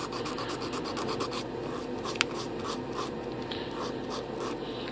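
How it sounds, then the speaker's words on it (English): A sanding block rubbing down a plastic model airplane part, the winglet or rudder of an Airbus A380 kit, giving close, steady back-and-forth scratchy strokes that are quicker at first, with one sharp tick midway. "I'm going to actually just take it down a little bit with sanding block"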